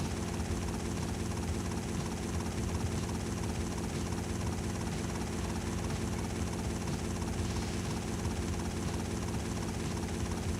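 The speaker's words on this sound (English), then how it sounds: "Hope you like the sound of the helicopter" Steady, loud helicopter rotor and engine drone from GTA Vice City Stories, a dense continuous whir with a low throbbing pulse that holds unbroken throughout with no voices.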